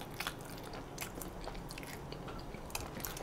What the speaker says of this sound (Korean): 배가 차면 나도 모르게 좀 쩝쩝대는 게좀 생기는 것 같아